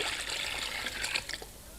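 Bath water runs and trickles into a tub, a faint continuous splashing stream with small sputters, fading toward the end.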